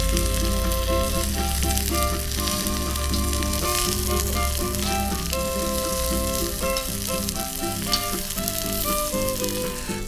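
Guajillo and New Mexico chile peppers fry in oil alongside onion, a dense continuous sizzle with faint musical tones underneath, steady and close throughout.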